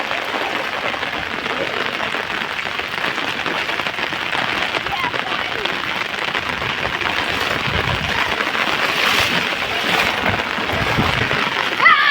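Heavy rain pours steadily over flooded farm fields, a dense continuous hiss that swells slightly toward the end, with splashing and voices mixed faintly into the downpour.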